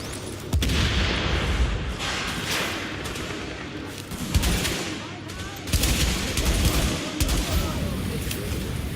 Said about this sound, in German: Alter, schon wieder so eine scheiß Granate.